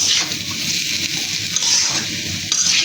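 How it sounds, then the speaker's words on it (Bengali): Raw small shrimp sizzle steadily in hot oil in a pan with coriander powder, a continuous close hiss with no talking. "একটু ভাজা ভাজা করে পানি দিয়ে দেব,"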